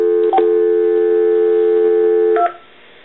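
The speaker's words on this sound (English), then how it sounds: "I want to hit redial." An AT&T CL4940 speakerphone redials a single number, producing a steady, loud dialing tone for about two seconds with brief clicks at its start and end, then falling quiet; no voices.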